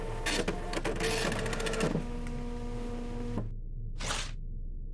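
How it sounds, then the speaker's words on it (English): A printer in a horror computer game prints with a loud mechanical whir and rapid clicking and rattling, then sustained motor hums, a sudden cutoff and a short final burst. "let's go back to the creepy printer"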